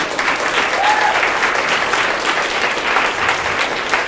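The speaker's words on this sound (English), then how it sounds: "I just want one more round of applause for everyone in here" Loud, sustained applause from a room full of people at a food summit, many hands clapping together in an even roar that never lets up.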